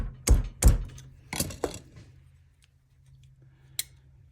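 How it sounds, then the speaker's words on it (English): Sharp metallic taps from a punch driving a bolt through a multitool: two quick strikes, then two more, ending with a single faint click after a quiet pause, all close and dry. "use like a punch basically to drive that other bolt through on the other side"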